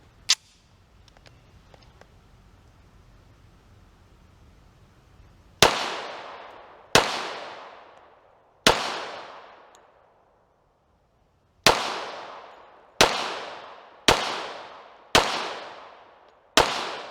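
A Tisas Raider pistol fires eight sharp, loud shots at an outdoor range during ammo testing, spaced irregularly with a few seconds' gap early on, each crack trailing off in a short echo.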